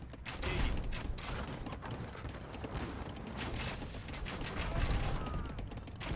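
Cannon fire knocking down a tower in a real-time strategy match, heard as dense, continuous battle noise with repeated gunfire-like cracks and thuds at a steady loud level throughout.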